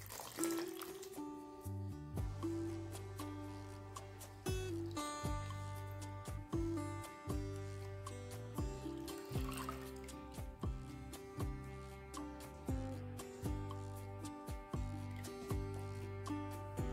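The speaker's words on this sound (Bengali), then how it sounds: "আমি এটাকে জল পাল্টে পাল্টে ধুয়ে নিচ্ছি।" Mustard flowers are washed in a bowl of water, giving faint drips, splashes and soft squishing sounds that repeat in a loose rhythm, quiet and close, against a low steady background hum.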